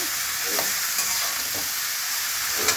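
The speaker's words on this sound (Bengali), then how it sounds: "লাল শাকটা একটু নাড়াচাড়া করব" Red amaranth leaves fry in a pan with dried chilli and mustard seed tempering, giving a close, steady sizzle broken by a few light scraping stirs of the spatula.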